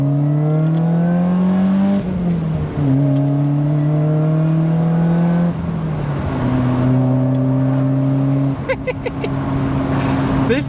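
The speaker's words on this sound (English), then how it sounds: "Supercharger noises!" A supercharged BMW engine accelerates hard, its whine and roar climbing steadily through several gears with brief dips at each shift, loud and close throughout.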